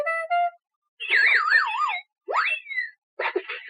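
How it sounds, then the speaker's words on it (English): A toy piano gives a series of bright electronic beeps and warbling, siren-like toy tones as its modes are switched, with short silent gaps between each burst; clear and close. "Every time you switch over, it makes a beeping noise."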